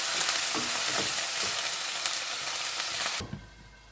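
Strip pork fries in a hot pan with dense, loud sizzling and a few stirring scrapes, then the crackle abruptly cuts away near the end.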